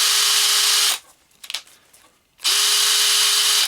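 Makita DHP459 combi drill running at its fast speed setting, a steady high-pitched motor whine in two bursts of about a second and a second and a half, with a brief pause of small clicks between them, close and loud.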